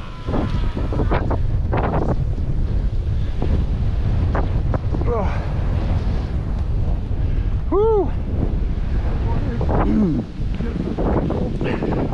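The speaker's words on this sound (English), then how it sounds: "You got the wind blowing." Strong wind buffets the microphone on a snowy, chilly trail, a loud, constant roaring rush throughout, with voices talking over it and a few brief squeaky sounds.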